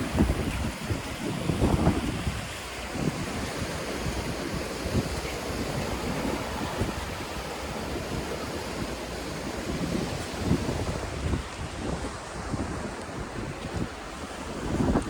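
Surf breaking at Narragansett Beach, Rhode Island, rolls in continuously under strong wind buffeting the microphone, with a heavier wash of waves near the start and steady roaring noise throughout.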